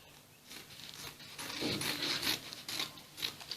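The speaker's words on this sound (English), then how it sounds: "then I'll cut out the front part." Scissors cutting the front piece of a peplum blouse pattern from fabric, a close, continuous crisp snipping and rustling that grows busier midway, with no one talking.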